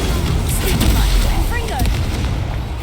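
The Incendio fire spell being cast in the Hogwarts Legacy video game: dense booming combat blasts and crackling bursts, fairly loud and steady, with voices shouting through the fight.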